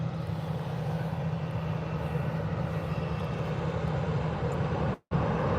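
Aer Lingus airliners at Birmingham airport, a steady loud jet engine roar that holds throughout and cuts out abruptly near the end.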